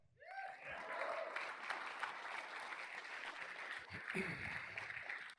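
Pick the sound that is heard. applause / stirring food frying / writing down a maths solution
applause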